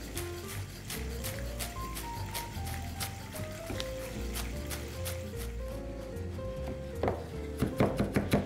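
A knife finely chops cilantro, green onion and mint with rhythmic taps under melodic background music, the strokes growing louder and quicker toward the end.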